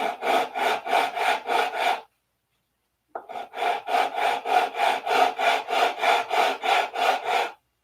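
Hard wood on a P-47 model airplane wing is sanded by hand in steady back-and-forth rasping strokes, about a dozen in a run, then a short pause before another even, rhythmic series, close and loud with no talk.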